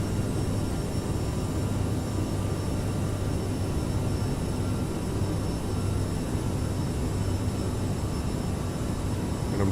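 A CRJ700 regional jet in a flight simulator roars at climb power with its jet engines, a loud, steady, broadband drone with faint tonal whine that holds evenly throughout with no talk.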